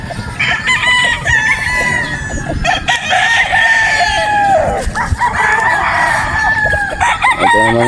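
Several gamefowl roosters and stags crow loudly and close by at a game farm in Batangas, with overlapping cock-a-doodle-doo calls and clucking following one another almost without pause.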